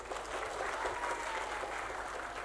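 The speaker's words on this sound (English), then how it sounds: "Applause, please." Conference audience at an international English language teaching event claps steadily, a dense, even burst of applause heard alone from within the hall.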